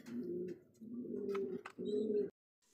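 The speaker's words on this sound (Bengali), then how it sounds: "দেখতে পাচ্ছি এখানে আরো এক জোড়া কবুতর ইন্দোনেশিয়ান কালারের মধ্যে, লক্ষা কবুতর" A pair of Indonesian-colour Lakka pigeons coo close by in a few low, throaty, rolling phrases separated by short pauses, with no talking over them.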